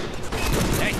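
Dense, loud gunfire from the Deadpool video game, shots packed into a continuous burst with no pauses, filling the whole short moment.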